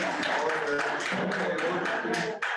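Dense, steady applause with cheering fills a Kaysville city council meeting, the crowd noise loud and continuous before briefly dipping near the end.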